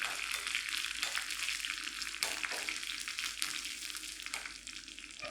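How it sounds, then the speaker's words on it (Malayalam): Chillies frying and being stirred in a pan while making Kerala beetroot pachadi, a steady bright sizzle broken by brief scrapes of stirring, close and continuous with no talk. "പിന്നെ എടുത്തു വെച്ച മുളക്, ജസ്റ്റ് ഒന്ന് ഇളക്കി കൊടുക്കുക."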